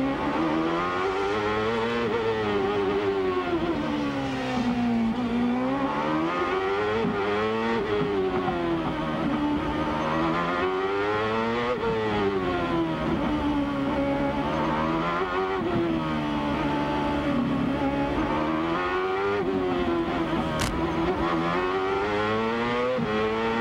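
Open-wheel race cars, a Reynard Honda chasing a Swift Ford, scream around the 1999 Long Beach street circuit, engines rising and falling repeatedly through gear changes and braking, loud and continuous with no talk.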